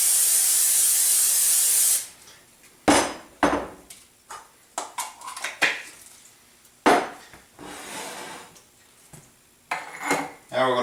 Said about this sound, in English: we are going to grease a baking dish with some Pam spray